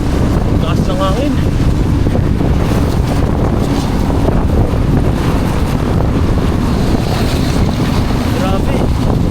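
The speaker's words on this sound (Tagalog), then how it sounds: "Lakas ng hangin." Strong wind roars over the microphone during a bike ride from Singapore to Johor Bahru, a loud, constant buffeting rush with no break, with a voice faintly under it.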